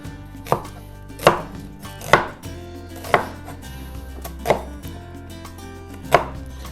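Six or seven sharp knife chops strike a cutting board at a slow, uneven pace as pork and ginger are cut into wedges for a stir fry, each chop close and crisp.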